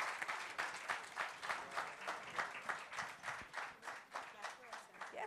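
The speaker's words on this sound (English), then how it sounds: "Big applause." Audience applause at a live talk event, fairly quiet and distant, with rapid clapping in slightly pulsing waves that holds steady across the whole stretch.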